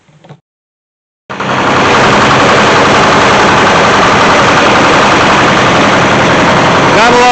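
An old Detroit diesel engine driving hydraulics roars to life after a short pause and runs loud and close, a rough, dense rumble with rapid pulsing, held steady to the end.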